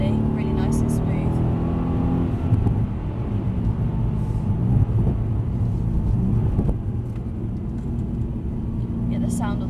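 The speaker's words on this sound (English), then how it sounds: "the sound of those down changes" A Mercedes C63 AMG sedan's engine roars and drops through gears on a wet track in the rain, revs rising then falling in steps, close and loud, with rumbling road noise throughout.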